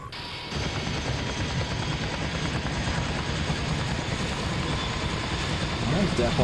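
A military helicopter's engine spools up in a tactical video game, a dense, steady whining roar that holds constant and swells slightly near the end.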